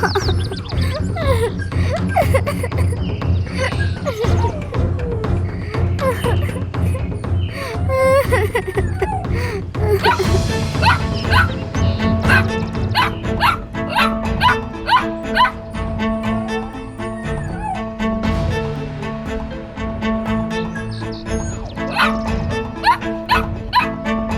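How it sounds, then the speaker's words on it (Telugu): A cartoon dog barks and yips repeatedly over a busy music score, the barking mixed with voices and bright melodic backing throughout. "వీడసలు ఎందుకు ఇలా మొరుగుతున్నాడు?"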